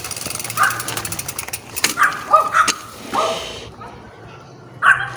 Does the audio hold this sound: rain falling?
no